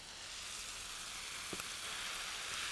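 Chicken pieces sizzle in a pan with turmeric, a steady, hissing fry held at a constant level, with one brief clink partway through.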